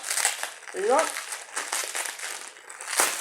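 Crinkly packing material being pulled apart while unwrapping a heavily wrapped package of stones, with crumpling and rustling throughout and a voice speaking briefly.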